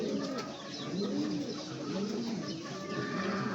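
Pigeons in a loft cooing in repeated soft, low throaty phrases, fairly close and moderately quiet, with no talk over them.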